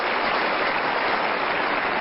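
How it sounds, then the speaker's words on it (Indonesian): A dense, even burst of audience applause follows praise for an official's second term in Indonesia, a steady hiss of many hands clapping with a muffled, band-limited quality and no talk. "Boleh tepuk tangan untuk periode kedua."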